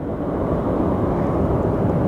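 A Southwest airliner at Phoenix Sky Harbor Airport gives off a steady, loud broadband rumble, heavy in the low end, holding constant for about two seconds with a windy roar and no voices.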